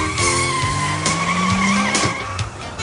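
A stolen car speeds away with a loud, sustained tire squeal and skid, the engine revving beneath, close and continuous throughout.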